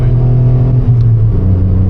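Volkswagen car engine pulling at higher speed while driving, a loud steady interior drone whose pitch rises slightly as it accelerates, no talk over it.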